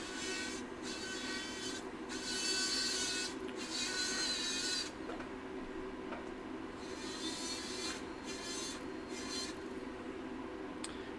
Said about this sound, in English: I'm going to go in here and polish the inside of the mounting.